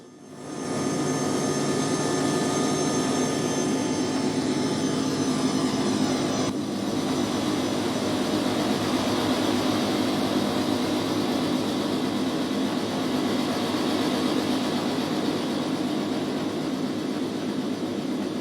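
Six locomotives hauling a roughly 160-car coal train in the Trainz game drone at full power, a loud continuous engine roar that swells in at the start and holds steady.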